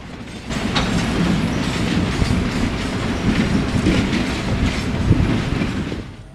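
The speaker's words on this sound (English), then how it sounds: "the train heads north to Willow and passes Dickey Road one last time" The Pumpkin Patch Express excursion train rolls by heading north with a steady rumble and rhythmic clickety-clack of wheels over rail joints, moderately loud and continuous.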